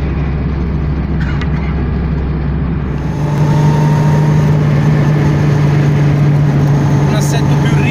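A Fiat 500 engine runs steadily close by, a low droning hum that grows louder and firmer about three seconds in and holds there.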